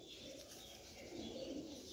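Low, faint cooing from flying pigeons kept in a loft, soft repeated throaty calls over a quiet background hiss, with a few light chirps mixed in.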